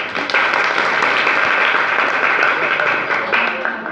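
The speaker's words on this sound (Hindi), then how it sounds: "तालियां इसके लिए।" An audience at a government high school applauds with loud, dense, sustained clapping from start to finish, close and full.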